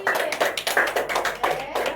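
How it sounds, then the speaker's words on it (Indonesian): Classroom applause during a micro-teaching lesson on economic growth: a loud, rhythmic run of hand claps lasting about two seconds, close by, with voices mixed in. "Tepuk tangan buat Yogi."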